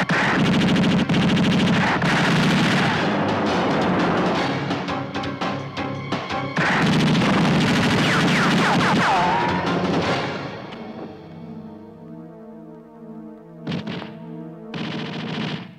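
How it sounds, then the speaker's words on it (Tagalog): Loud, sustained bursts of gunfire as hold-up robbers are shot, rapid automatic fire dominating for about ten seconds, then fading into ringing echoes with a few later isolated shots. "kaya sila ay binaril ni Major Durango"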